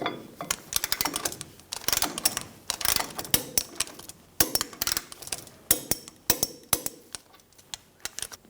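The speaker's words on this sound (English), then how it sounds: "Torque the outer tie rod nut to 67 foot-pounds." A wrench ratchets the outer tie rod nut tight on a 2005-2010 Toyota Tacoma front knuckle, giving close, irregular clusters of sharp metallic clicks with short pauses between the bursts.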